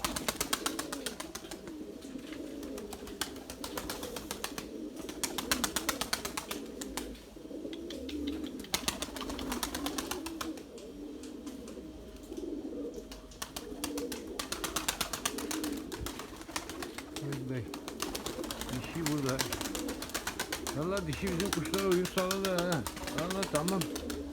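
Pigeons coo softly and repeatedly in a loft, a low steady murmur under someone talking almost continuously, with occasional wing flutters.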